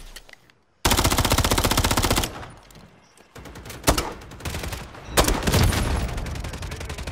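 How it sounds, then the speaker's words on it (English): Rapid automatic gunfire from the video game Modern Warfare 3, loud sustained bursts with short pauses between them, close and dense, with no talk over it. "Taking fire."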